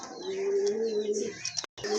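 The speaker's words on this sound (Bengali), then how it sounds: "বিগ সাইজের এক জোড়া কবুতর" Pair of large pigeons in a loft, cooing in a low, steady hum that runs continuously and close for about two seconds, with a brief break near the end.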